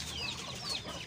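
Shamo breed chickens in Pakistan clucking, a quick burst of close, fairly soft clucks and chirps over a short moment.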